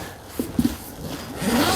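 A zipper is pulled on an SW-MOTECH Daypack motorcycle tank bag, a short scratchy rasp with a couple of quick ticks, close and fairly loud with no talking.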